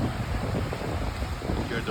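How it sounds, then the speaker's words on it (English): Ocean water washing and splashing at a warm afternoon beach in Puerto Vallarta, Mexico, a steady close rush of surf mixed with wind noise on the microphone. "You hear the water splashing."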